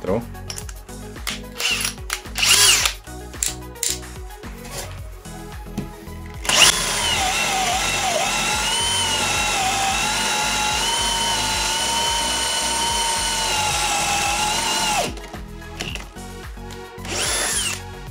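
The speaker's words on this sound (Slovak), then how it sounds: "má už veľmi krásny odvod triesok. Dúfam, že som tam do nejakého klince nezavrtal." A Villager VPL 8120 cordless hammer drill bores a 35 mm hole in wood, starting with short bursts and clatter, then whining loudly and continuously for about eight seconds before stopping, followed by more brief handling noise.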